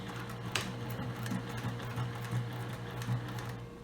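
A steady machine hum with a rapid mechanical whir of stitching, continuous throughout at close range, with a few faint clicks.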